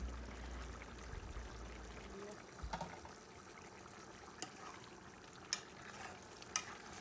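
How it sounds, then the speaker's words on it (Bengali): Curry made with dried tengra fish, broad beans and potato is stirred in a pot with gentle scraping and light bubbling, and a few sharp clinks of the spoon come near the end. The sound is fairly quiet. "নাড়াচাড়া করে দিচ্ছেন।"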